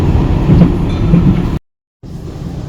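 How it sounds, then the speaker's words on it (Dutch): Loud rumbling interior noise of a tram in motion, a steady rolling roar with faint rhythmic clatter, briefly dropping out before resuming. "Ik zit nu in de tram"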